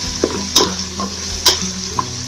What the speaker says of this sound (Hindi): जीरा, हल्दी, मिर्च, ये चीज़ें ऐड करके मिक्स कर लेंगे।